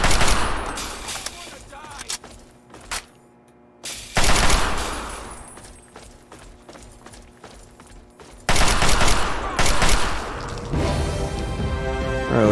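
Gunfire in Fallout 3 comes in several loud bursts of rapid shots separated by short pauses, with crashing impacts in between.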